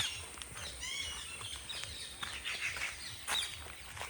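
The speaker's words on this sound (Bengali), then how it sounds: "এই যে বাইরে থেকে অন্য পাখি, পাখির গর্জন।" Wild birds calling in Adina forest in Malda, with scattered chirps and short tweets at moderate distance over a steady background hiss; some calls are sharper and closer, and no one speaks.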